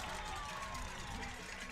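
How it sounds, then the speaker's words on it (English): Crowd at a college football game between Shasta College and Sierra College roars after a touchdown, a distant, fairly faint, sustained wall of cheering noise with voices mixed in. "listen to that crowd now"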